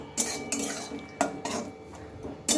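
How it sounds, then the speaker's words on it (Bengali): A pan of potato curry is lifted off a gas stove, giving several loud metallic clanks and scrapes of cookware in quick succession, close up with no talking. "গ্যাস বন্ধ করে দিলাম আর এখন এটা আমি নামিয়ে নেব"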